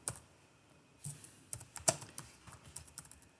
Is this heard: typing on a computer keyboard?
yes